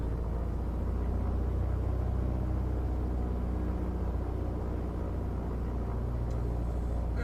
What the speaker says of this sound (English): Just run her up and get some juice back into the battery.